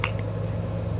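A high-efficiency top-load washer runs mid wash cycle, giving a steady low hum and churning with faint ticks and a soft squishing of wet laundry, heard up close with no talking.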